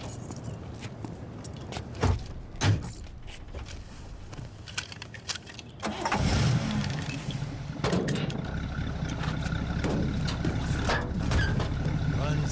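A car engine cranks and turns over after a jump start from a boat, then settles into a steady idle, with people talking and clanking handling noises over the running motor.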